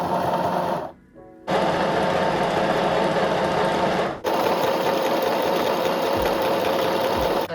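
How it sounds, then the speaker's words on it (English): A sewing machine runs a zigzag stitch along the raw edge of fabric, a loud steady mechanical whir with one brief pause near the start and a short dip midway. "I have my zigzag selected, my needle is raised. I'm going to start sewing."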